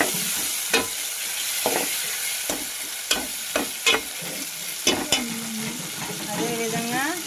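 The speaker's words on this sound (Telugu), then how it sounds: "2 టమాటాలు అయితే బాగా ఫ్రై చేసాను సన్నగా." Tomatoes frying in a pan for mushroom biryani, a steady sizzle punctuated by repeated sharp scrapes and taps of a spatula stirring, with a brief voice near the end.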